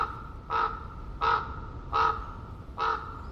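A raven calls four times in an ancient redwood forest among hemlocks in fog, each hoarse croak clear and evenly spaced about three quarters of a second apart against quiet background hiss.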